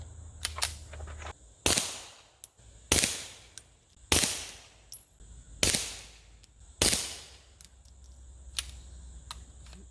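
A Ruger Mark IV 22/45 pistol fires copper-plated round-nose Aguila 40-grain rounds in six sharp, evenly spaced shots, each a loud close crack with a short ringing tail against a quiet background.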